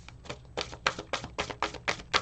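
Oracle card deck about 8 to 10 years old being shuffled by hand, a quick series of about nine crisp papery riffles and taps, close and fairly soft, with no voices.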